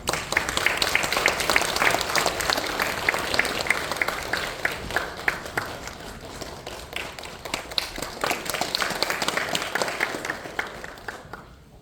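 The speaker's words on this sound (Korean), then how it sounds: "한번 힘차게 박수." A church congregation applauds in a sustained burst of dense clapping that fills the room, tapering slightly toward the end.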